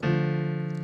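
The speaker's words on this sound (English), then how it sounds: "So this is the sound of a" A short sustained minor triad chord with several tones ringing together, steady and clean, fading slightly toward the end.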